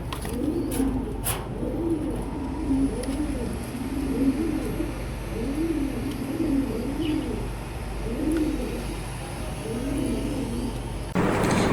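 A Lakka pigeon coos in a steady, repeating rhythm of low, throaty rolling calls, close and clear, over a faint background hum.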